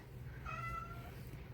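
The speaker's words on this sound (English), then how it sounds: "Kitten" A kitten gives a single drawn-out, high-pitched meow lasting under a second, fairly close, over a low steady room hum.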